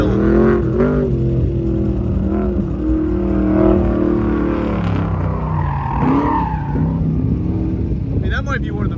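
A 1970s Chevrolet Camaro runs an autocross course, its engine roaring loud and close as it revs and pulls hard, the pitch rising and dropping with acceleration and braking.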